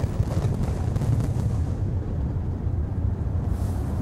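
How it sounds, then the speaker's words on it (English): Fireworks boom and crackle in a dense, continuous rumble of overlapping blasts, loud and sustained throughout before easing slightly toward the end. "Are the fireworks over now?"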